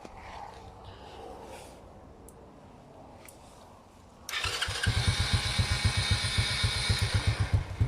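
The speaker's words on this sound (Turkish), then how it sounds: "Şimdi dilerseniz aracı kumandayla çalıştırayım." Car engine started by a remote starter, quiet idle-room ambience then a sudden crank and catch into a loud, close, rhythmically pulsing idle.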